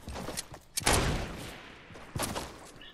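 Gunfire in the video game Fortnite, with a few sharp shots, one loud blast near the start followed by a long decaying tail, then another burst later, all without speech.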